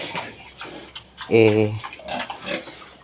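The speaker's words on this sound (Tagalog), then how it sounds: "So yan po yung ating alagang pig." A farm pig gives one loud, close grunting oink in the middle, with quieter snuffling and shuffling around it and a person talking nearby.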